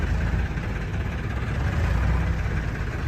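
A Farmtrac 60 tractor engine idles at a tractor market with a steady low rumble and constant vibration, close by and unchanging throughout.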